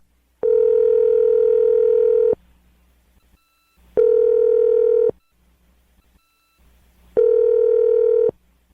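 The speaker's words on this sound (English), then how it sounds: "I'm going to dial her phone number right now." A telephone line sounds three loud, steady tone bursts, about two, one and one seconds long, separated by short silences, with no talk.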